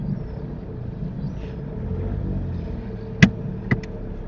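A car engine hums low and steady while a learner driver pulls away, with a couple of short sharp knocks near the end and no talking over it.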